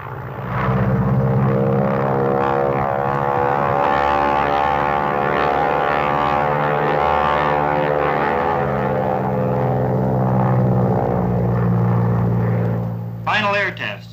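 A propeller plane's engine drones steadily during an aerobatic training flight, its pitch rising and falling with the maneuvers, while someone speaks over it.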